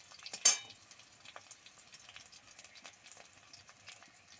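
Garlic and green chillies fry in a pan as coriander leaves are stirred in, a soft continuous sizzle with light scraping of the spoon and one sharper clink near the start.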